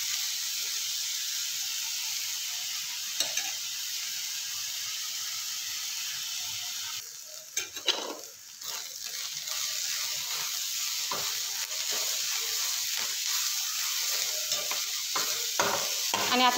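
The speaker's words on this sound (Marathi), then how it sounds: "आपल्याला सुकट चांगली तेलात चांगली परतवून घ्यायची आहे." Dried fish (sukat) frying in oil in a pan: a constant close sizzling hiss runs throughout, broken by scraping stirring strokes and clicks, with a brief pause as the pan is worked midway.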